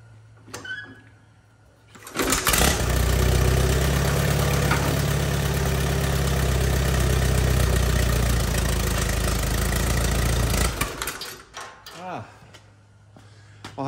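An Allis Chalmers B tractor engine fires up after a pull start and runs loud and close for about eight seconds with a steady, rapid chugging idle, then cuts off. A voice speaks briefly before and after.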